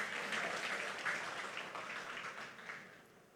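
A church congregation applauds in a soft, distant wash of clapping that gradually fades over a few seconds, with no voices over it.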